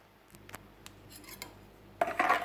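A spoon mixes milk, sugar and salt for pizza dough in a bowl. A few faint clinks and taps are followed by a louder burst of scraping clatter near the end.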